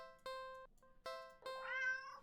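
A cat in a video game meows three times in quick succession, clear and close, the last call longer and rising with a slight strain.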